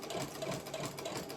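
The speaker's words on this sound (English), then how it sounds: "I usually do stay stitch things" A sewing machine stay stitches a Butterick 6770 blouse, its needle running in a fast, even, continuous whir at close range, loud and unbroken for the whole short stretch.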